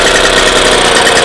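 A warmed-up car engine fitted with a Solex carburettor idles loud and close with its choke off, giving a steady, even mechanical drone and no talking.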